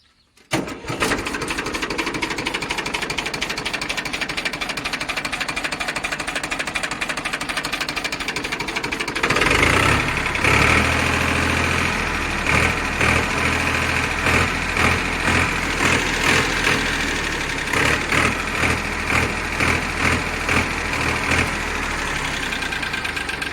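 A Powertrac 439 tractor engine idles with a steady, rapid chugging knock, close and continuous, growing louder and rougher partway through as it revs slightly.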